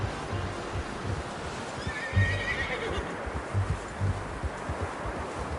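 A horse in Red Dead Redemption 2 whinnies in a drawn-out neigh over soft hoof clops and rustling outdoor ambience, with a few dull thuds underneath.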